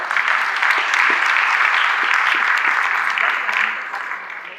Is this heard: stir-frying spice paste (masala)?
no